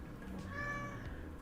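A cat gives a single clear, drawn-out meow, close and fairly soft, rising and falling over about a second with no talking.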